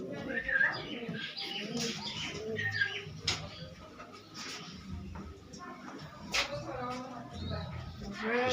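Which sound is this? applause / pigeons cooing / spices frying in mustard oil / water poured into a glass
pigeons cooing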